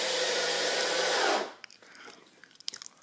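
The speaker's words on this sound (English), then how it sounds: "just driving screws right down through" A drill drives screws down through stacked panels, a steady whirring drone that holds for about a second and a half and then cuts off, followed by faint clicks and handling noises.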